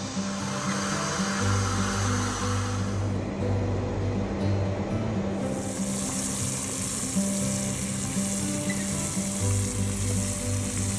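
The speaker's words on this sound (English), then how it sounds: "You boil this up now until it goes completely clear" A pot of sugar water bubbles and sizzles continuously at a steady level, with a low hum running underneath throughout.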